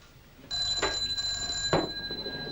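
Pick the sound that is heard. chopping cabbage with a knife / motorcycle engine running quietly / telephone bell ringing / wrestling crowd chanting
telephone bell ringing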